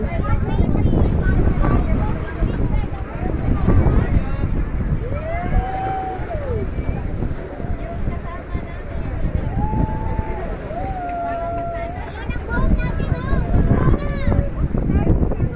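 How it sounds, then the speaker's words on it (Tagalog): A boat pushes across a rough, wave-tossed sea near Wong Chuk Kai, Sai Kung, Hong Kong, with heavy wind buffeting the microphone throughout; water rushes and slaps steadily while voices call out and chatter over the wind. "Ito na po yung boat namin."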